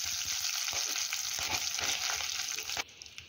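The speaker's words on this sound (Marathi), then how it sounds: "यानंतर याच तेलामध्ये आपण आता जिरे, मोहरी, त्यानंतर काही खडे मसाले," Cumin, mustard seeds and whole spices crackle and sizzle in hot oil for a vegetable pulao, a loud continuous fry that cuts off sharply near the end.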